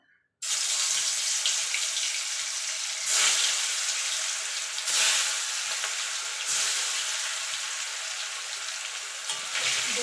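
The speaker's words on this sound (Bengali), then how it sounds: "তেলটা ভালো গরম হয়ে গেছে এবার মাছগুলো আমি ভেজে নেবো" Stingray fish pieces frying in hot oil in a pan give a steady, loud sizzling hiss that swells in a few bursts and never lets up, with no speech.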